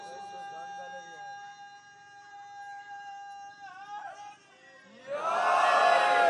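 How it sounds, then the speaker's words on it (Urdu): At a Shia majlis mourning gathering at a shrine, a single voice calls out, then a large crowd erupts in a loud, roaring collective chant of the slogan Ya Ali, filling the hall for the last second or so. "میں نعرے سے میں آپ کی مطمئن نہیں ہوں، کیونکہ آپ تو بہترین لگا رہے ہیں، لیکن سب یا علی نہیں کہہ رہے۔"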